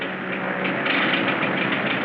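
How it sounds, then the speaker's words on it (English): An aircraft engine with engine trouble gives a continuous, fairly loud droning rumble that holds steady for the whole moment, with no voices over it. "Engine trouble, sir. We'll have to go back to the field."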